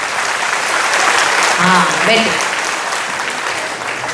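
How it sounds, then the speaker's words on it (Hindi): An audience at a spiritual talk claps loudly for themselves, a dense even wash of applause while someone speaks briefly over it. "जोरदार ताली बजाओ अपने लिए"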